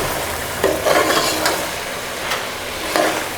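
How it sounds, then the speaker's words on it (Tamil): A spoon stirs soaked, drained rice into hot oil in a pan for paneer peas pulao, giving a soft steady sizzle with a few scraping strokes against the metal. "அந்த ரைஸ் வந்து போட்டுடலாம். இதிலே வந்து மிக்ஸ் பண்ணி விடலாங்க."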